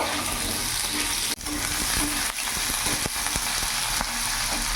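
Cubed potatoes sizzling in oil after the tempering, in a pan for a vegetarian pumpkin curry: an even, steady frying hiss broken by a few sharp spoon knocks against the pan.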